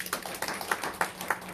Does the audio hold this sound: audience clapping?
yes